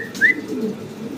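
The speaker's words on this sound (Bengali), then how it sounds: "ভাইয়ের কাছে আছে এক জোড়া ড্যানিশ কবুতর ব্ল্যাক কালারের ভিতরে" A pair of black Danish pigeons gives a brief, soft, low coo at close range, with a faint higher chirp near the start.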